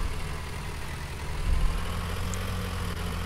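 Engine of a New Holland tractor in Farming Simulator 19, a steady low idling rumble with a slight swell in the middle, heard alone without talk.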